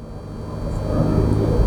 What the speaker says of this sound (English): the engine noise sounds really good inside the car